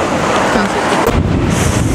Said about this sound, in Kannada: ಇವಾಗ ಗಾಳಿ ತುಂಬಾನೇ ಬರ್ತಾ ಇದೆ